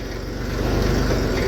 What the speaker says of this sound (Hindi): अब टॉप गियर में लगा देंगे ट्रैक्टर को यहीं से ही